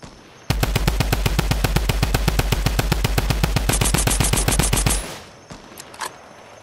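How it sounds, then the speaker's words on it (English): Rapid automatic gunfire from another player in Fortnite, a long, loud, evenly spaced burst of shots lasting several seconds, then a few scattered faint sounds after it stops. "Where's this guy shooting from?"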